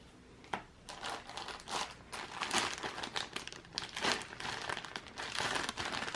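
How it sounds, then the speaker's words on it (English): Plastic bags crinkle and crumple almost continuously during a board game unboxing, with close, busy bursts of rustling and a few sharper crackles throughout. "Extra plastic bags."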